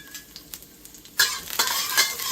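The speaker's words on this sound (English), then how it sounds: "Give that a quick stir fry" Chopped ginger and garlic stir-fried in oil in a wok, a quiet few scrapes then a sudden loud burst of sizzling with rapid stirring strokes.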